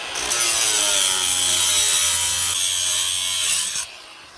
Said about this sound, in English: Pop a socket on it and use the impact gun.